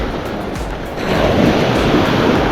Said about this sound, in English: I wish these waves would just be a little quieter